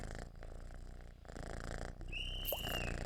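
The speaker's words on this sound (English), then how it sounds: "the kitty's got a well loud purr" A cat purrs loudly and close in a continuous low rumble with a steady rhythmic pulse, alone apart from a brief faint chirp near the end.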